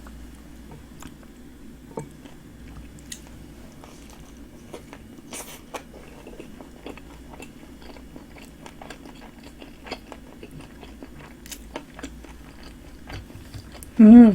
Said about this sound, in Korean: 예, 이제 먹을게요.